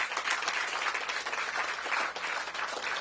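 A crowd at an outdoor groundbreaking ceremony for recreational fields on the RFK Stadium campus gives sustained applause, a dense, even patter of many hands clapping with no talk.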